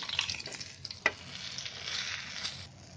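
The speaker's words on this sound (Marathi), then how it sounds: "मच्छी आपली मस्त फ्राय झाली आहे" Whole pomfret (halwa) fish fries in a pan over a low flame, making a soft, continuous crackling sizzle with a brief sharp spatter near the middle.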